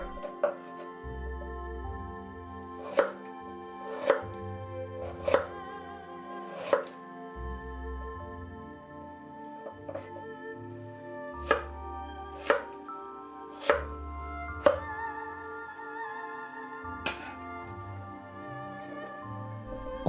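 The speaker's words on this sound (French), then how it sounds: "Coupez les pommes de terre en petits cubes." A knife chops potatoes into small cubes on a board, about a dozen crisp evenly spaced cuts in a slow steady rhythm over a low background hum, with no talk.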